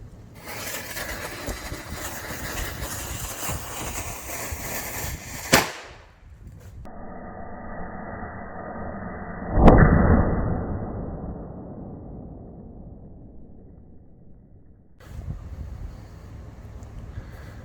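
A homemade 9mm cannon fires a projectile with one sharp loud blast, followed by a long decaying hiss and rumble, then a second burst of noise near the end, over outdoor wind.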